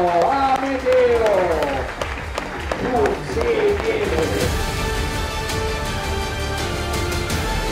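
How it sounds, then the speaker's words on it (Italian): Applause at a national calisthenics competition, a steady patter of clapping from a crowd that grows more even in the second half, with a voice speaking loudly over the start. "E l'applauso Amedeo."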